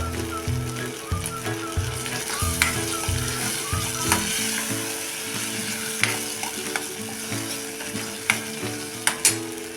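Chili powder and tamarind pulp fry in a pan with a soft, steady sizzle, over a repeating low mechanical hum and a few sharp clicks and taps of a spoon against the pan.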